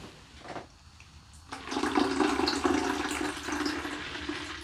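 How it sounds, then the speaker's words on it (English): Cold water pouring into a bottle from a tap, a steady splashing gush that starts after a brief pause and runs on, close and moderately loud. "Okay, now we're going to top up with cold water."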